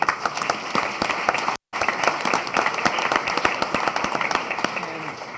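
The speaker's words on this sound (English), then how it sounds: "Big round of applause." At an annual housing authority meeting, an audience of residents, staff, guests and honorees applauds, with crisp, individual claps standing out over a dense crowd clatter, loud and close, broken by one brief dropout.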